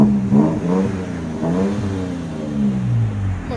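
A lifted Toyota Tacoma with a 3.5L V6 and an aftermarket exhaust revs up and down in a few close, loud throttle blips, its deep exhaust note rising and falling without any talk.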